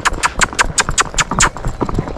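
Horse hooves clip-clop at an easy, relaxed gait on the street, a steady run of distinct, close, fairly loud hoofbeats with no talk over them.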